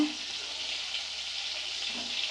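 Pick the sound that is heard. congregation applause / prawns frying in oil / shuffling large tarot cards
prawns frying in oil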